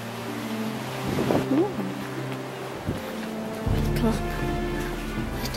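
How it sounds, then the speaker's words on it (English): Steady wind rumbles and buffets loudly throughout at a coastal watchtower in Wales, with a voice speaking briefly partway through. "So windy, isn't it?"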